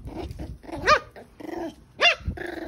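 Patterdale terrier puppies bark and growl close by, with two sharp yelping barks standing out over a continuous low growling scuffle.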